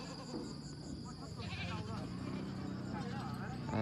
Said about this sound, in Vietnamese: Dê rất là nhiều các bạn